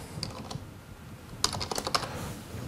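Company name being typed on a computer keyboard, a few quiet clustered key clicks in two short bursts, close and faint against a low background hum.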